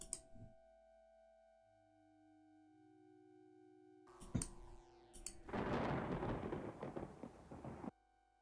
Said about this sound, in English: Just thunder.